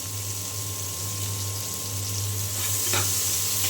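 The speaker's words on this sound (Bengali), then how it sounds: "এখন এই তেলের মধ্যে আমি পেঁয়াজ কুচি দিয়ে দেব" Chopped onion frying in plenty of hot oil gives a steady, close sizzle with a faint hiss, swelling slightly toward the end, and no voices.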